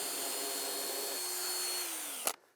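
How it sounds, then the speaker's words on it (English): Power drill boring a pilot hole from the top into wood for a toilet shack build, a steady whining motor run that dips in pitch near the end, then stops with a short sharp click. "Drilling it from the top so I can get it nice and centered."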